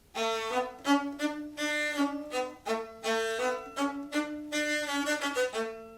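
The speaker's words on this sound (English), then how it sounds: "And if you put the mute on, it will sound like this." A violin fitted with a practice mute plays a short melody with a quieter, duller, more muffled tone, the notes distinct but subdued.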